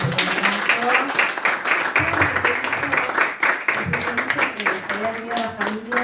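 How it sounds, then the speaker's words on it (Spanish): Audience applause at a book presentation, sustained clapping from a gathered crowd with voices talking over it. "Un aplauso."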